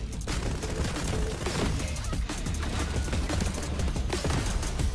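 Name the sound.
gunfire in Fragpunk video game trailer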